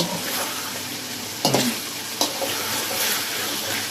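Potato pieces deep-frying in hot oil until light brown give a steady bubbling sizzle, with two brief sharp clatters of a utensil stirring the pan partway through.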